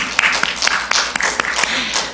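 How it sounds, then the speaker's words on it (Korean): A church congregation at a Sunday service bursts into applause, a close, lively clatter of many hands with sharp individual claps standing out, holding strong through the whole stretch. "우리 하나님께 감사의 박수."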